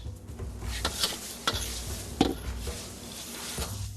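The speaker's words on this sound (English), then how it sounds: "Frying garlic requires controlled heat because it's easy to burn it towards the end" Garlic sizzles softly in a pan over controlled heat, with occasional clicks and scrapes of stirring against the metal; steady, close, and without voices.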